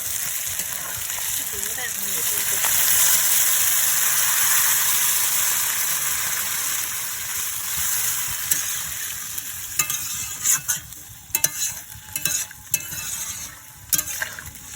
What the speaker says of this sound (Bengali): এরপর আমি জল দিয়ে দিচ্ছি পরিমাণ মতো।